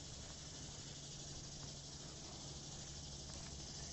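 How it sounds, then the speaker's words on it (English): Cicadas buzz in the trees around Lake Ashby, a steady, dense high-pitched drone that fills the whole stretch without a break, with no talking over it. "Can you hear the cicadas up in the trees?"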